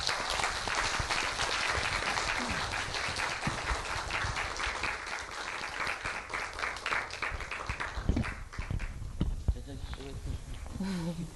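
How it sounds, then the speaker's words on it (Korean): Audience applause at a poetry-and-song concert marking a venue's first anniversary, welcoming a poet to his seat; steady clapping that thins out toward the end as a voice begins speaking. "우리 나태주 선생님 박수로 바로 자리로 모시겠습니다"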